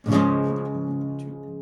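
A single strummed guitar chord rings out clearly and slowly fades, with no talking.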